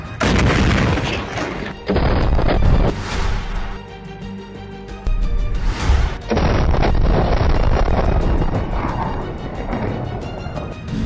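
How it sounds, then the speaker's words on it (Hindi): Rockets striking an Israeli tank in combat set off a series of loud, heavy explosion booms, several separate blasts with rumbling decay between them and no talking. "जैसे ही एक रॉकेट टैंक पर लगता है उसमें जोरदार धमाका होता है"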